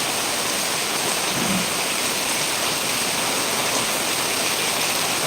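Heavy monsoon rain pours steadily in Manjeri, Kozhikode district, a dense, even hiss of downpour close by with no break and no voices.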